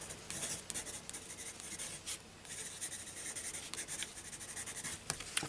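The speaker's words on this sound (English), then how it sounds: "I'm going to write these down as we open them" Pen scratching out words on paper as colouring product names are noted down, a steady close scritching with brief pauses between strokes, no voices.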